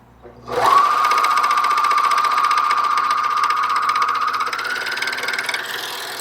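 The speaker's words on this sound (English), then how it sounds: "Here we've got the machine set up for a triple cover stitch. Notice how smooth this machine will operate." A Juki MCS 1500 coverstitch serger sews a triple cover stitch, starting up sharply and then running as a steady, fast, smooth whir that hums for several seconds, close and without talk.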